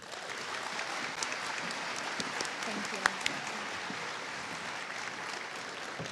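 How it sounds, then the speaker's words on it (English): An audience at a nursing pinning ceremony applauds to welcome a speaker, fairly quiet sustained clapping with a few louder single claps and some crowd murmur. "let's have a warm round of applause and join me in welcoming Miss Mindy"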